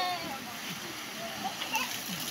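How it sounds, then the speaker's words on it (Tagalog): Water is poured and splashes in a continuous hiss and spatter lasting a couple of seconds, with children's voices chattering over it. "buhos tubig."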